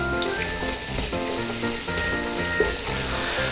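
Garlic, ginger and five green chillies fry in a pan, giving a steady, continuous sizzle with faint crackle, close and fairly loud throughout, with no talking.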